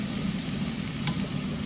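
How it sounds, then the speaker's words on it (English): Onions and garlic fry in a bit of butter in a pan in an Alpine chalet kitchen, giving a steady, close, even sizzle that holds unchanged throughout with no talking. "the smell of the onions and garlic frying in a bit of butter"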